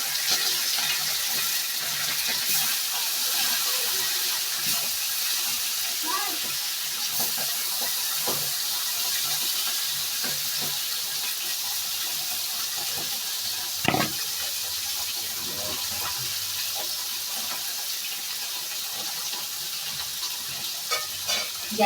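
Fish frying in hot oil in a preheated kadai, a steady dense sizzle held throughout with occasional pops and a louder crackle partway through, close and without speech.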